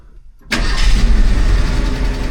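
An old car back on the road after almost 15 years, its warmed-up engine catching abruptly and then settling into a loud, close, steady idle with a low, even rumble.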